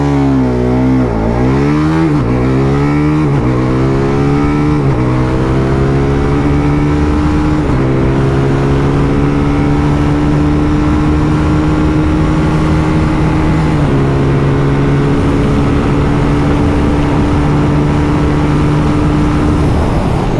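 A 2025 TVS Apache RR310 motorcycle pulls hard at full throttle, its engine note climbing steadily through several gear changes, loud and close with wind noise and no talking.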